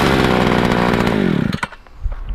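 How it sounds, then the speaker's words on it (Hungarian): A Hungarian-sold BCH 400 T chainsaw's small two-stroke engine runs loud and close with a steady buzzing rattle, then is cut off, leaving a few faint knocks. "Tök jó motor hangja van, ugye? Finom kis rapogó"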